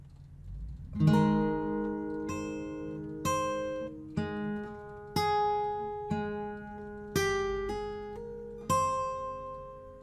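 Slow fingerstyle acoustic guitar playing a bar of a piece, about eight separate plucked notes and chords spaced out, each ringing and decaying in a quiet, close setting.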